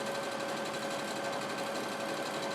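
A sewing machine runs steadily, stitching single rows along the full length of a piece of fabric for smocking: a continuous, even mechanical whir with a fixed tonal hum and fast needle rhythm, close and alone.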